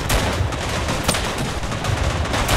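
Machine gun fire in the World War I game Verdun, continuous loud rapid automatic bursts mixed with other gunfire close by.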